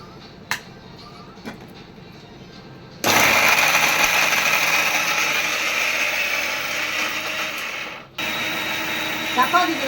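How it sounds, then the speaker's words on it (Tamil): A kitchen mixer grinder whirs at high speed as it grinds green chillies and curry leaves, starting abruptly after a few quiet clicks, running loudly for about five seconds, pausing briefly, then starting again. "இப்போ அரைச்சிக்கலாம்."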